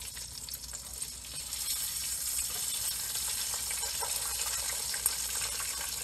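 A thick piece of fish frying in hot oil in a Southern kitchen, a steady, even sizzle and crackle running throughout at moderate volume with no talking.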